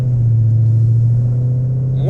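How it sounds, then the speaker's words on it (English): A 2018 Mustang GT with a Whipple supercharger, Cook's headers, no cats and a Lethal Performance axle-back exhaust idles with a loud, deep, steady rumble, close up and unbroken. "Like I said, car idles great."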